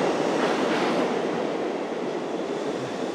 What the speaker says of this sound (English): in New York, you gotta take the subway